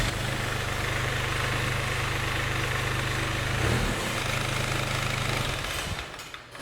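A 1979 Harley-Davidson converted to a John Deere turbo diesel engine idles loud and close, a steady knocking diesel chug with a brief surge near the middle before it tapers off at the end.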